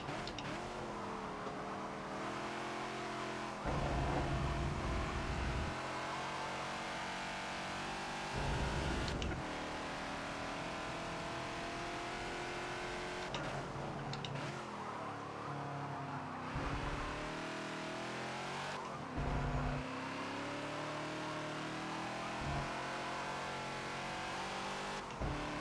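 Ford Falcon XB racing around Silverstone in a Forza video game, its engine roaring loud and continuous with repeated rises and drops in pitch as it accelerates, shifts gears and brakes into corners.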